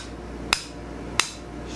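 Two sharp hammer blows on a metal bar being straightened for a no-weld scroll bending jig, spaced about 0.7 seconds apart, close and distinct over a quiet workshop background.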